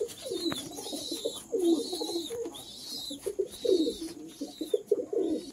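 Fancy pigeons coo repeatedly in soft, throaty phrases, close by, with faint high chirps from other birds in the background.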